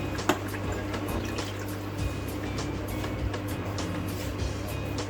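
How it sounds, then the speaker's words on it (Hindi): Water poured into a pot of aloo gosht meat curry after the masala is fried, a continuous close pouring and bubbling wash that holds steady for several seconds, with no one speaking. "अब इसमें हम पानी शामिल करते हैं।"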